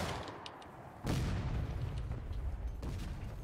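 Cannon artillery fire in the Civil War video game War of Rights during a river crossing: one heavy boom about a second in, followed by rolling rumble and a fainter distant shot later.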